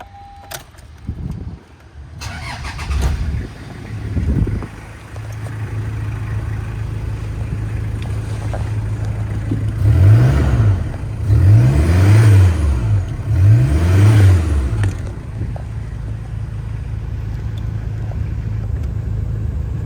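A car engine cranks and fires up, then settles into a steady idle broken by three strong revs in a row partway through, heard up close with no talk.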